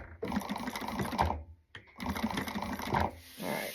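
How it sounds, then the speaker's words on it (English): A sewing machine runs in two steady bursts while stitching along a line on the lining of a wristlet, with a brief pause between runs; the motor whirs close and continuous. "you're going to sew on the line that's closest to this edge"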